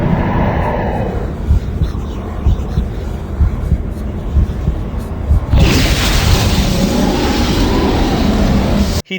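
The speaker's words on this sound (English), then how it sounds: "One of them plants a bomb to blow up this wall." A bomb blows a wall apart in Doom 3, heard as a long, loud rumbling roar that swells into a dense wash of blast noise, with someone talking over it.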